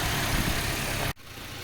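A car engine idles during a coolant flush, circulating distilled water, with a low, even rumble, then cuts off abruptly, leaving quieter background noise.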